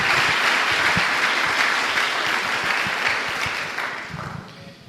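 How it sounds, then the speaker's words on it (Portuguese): A church congregation claps together for the Lord after a call from the pulpit, dense rhythmic applause that holds strong and then gradually thins and fades toward the end. "Dê uma salva de palmas ao Senhor"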